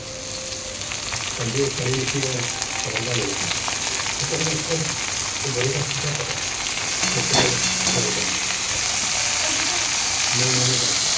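Leafy greens sizzle as they go into a pan of browned onion, garlic, dried and green chillies, a steady loud frying hiss, while a voice speaks intermittently over it.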